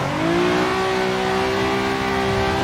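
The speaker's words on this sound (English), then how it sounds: "if you use the 350Z on flat ground, it actually drifts pretty well" A Nissan 350Z engine holds a loud, steady high rev while drifting on flat ground, the tone climbing slightly and then staying sustained and close throughout.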